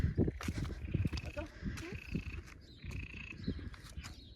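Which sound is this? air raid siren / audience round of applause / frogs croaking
frogs croaking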